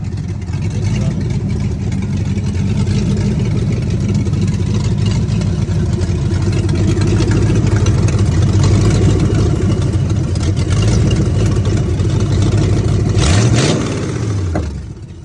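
A 1988 Ford Mustang GT engine runs steadily at idle, a loud continuous low rumble close by, with a slight swell in revs before it tapers near the end.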